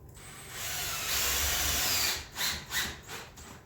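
A power drill drives screws into 2x4 wood framing around a rustic window, one steady whirring run of about two seconds followed by two short bursts, close and loud with no talking.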